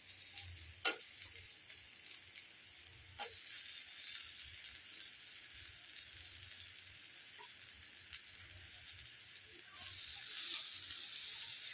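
Lightly salted, head-on shrimp fry in a pan for a potato-and-shrimp dish, giving a steady, soft sizzling hiss broken by a few sharp pops and a louder surge of sizzle near the end. No voices are heard.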